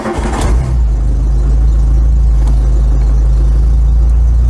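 An 8-valve engine in an MK2 Volkswagen Scirocco runs loud and steady at a rough idle with a deep constant rumble. The choke needs adjusting, and a brief rev comes at the start.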